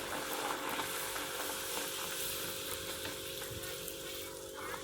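Puris frying in hot oil give a steady, fairly faint sizzle and crackle that runs on without a break, with no talking over it.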